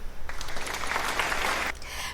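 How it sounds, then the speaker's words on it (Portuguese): Applause from an audience for a K-pop singer's solo hit, a dense steady patter of many hands that swells for about a second and a half, then stops abruptly. "Palmas pra ele."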